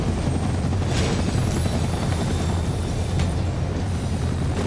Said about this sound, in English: Oh boy, not a helicopter on me?